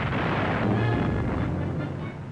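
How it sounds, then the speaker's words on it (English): Naval guns firing with 15-inch shells exploding, heard as a dense rumbling roar of booms blending together, loud and continuous over a few seconds on an old 1940 newsreel soundtrack. "The roar of naval guns is followed by the crashing explosion of 15-inch shells"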